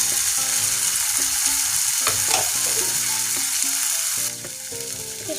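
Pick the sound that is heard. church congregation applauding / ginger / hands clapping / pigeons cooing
ginger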